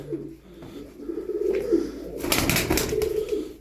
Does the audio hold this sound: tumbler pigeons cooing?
yes